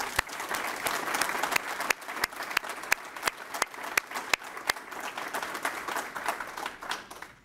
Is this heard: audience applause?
yes